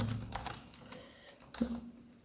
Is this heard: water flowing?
no